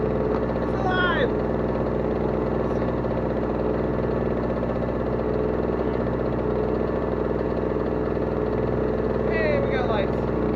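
Yamaha YZ125 two-stroke dirt bike running after a start, a steady, loud, continuous engine drone throughout, with a voice audible near the start and end.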